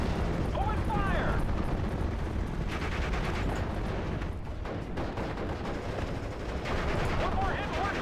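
Gunfire from the WWII strategy game Steel Division Normandy 44 rattles steadily through the whole stretch as a dense, continuous barrage of shots and explosions, with a few brief whistling sounds, heard near and loud with voices talking over it.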